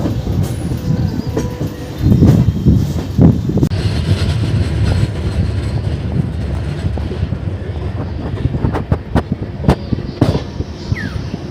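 Amrit Bharat Express 16598, bound from Alipurduar to Bengaluru near Howrah, rolls along the rails with a loud steady rumble, sharp wheel clicks and rattles rising over the wagon noise.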